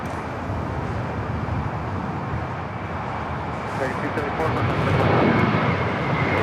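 An Air New Zealand airliner in all-white livery taxis toward the gates at LAX, its engines a loud, steady rumble that swells slightly near the end.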